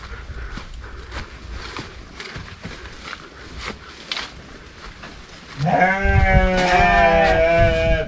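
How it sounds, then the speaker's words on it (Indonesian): Sheep in a pen on the slopes of Mount Ciremai bleat loudly and close after several seconds of footsteps and ambient rustle, overlapping wavering cries continuing to the end. "Ada kandang domba."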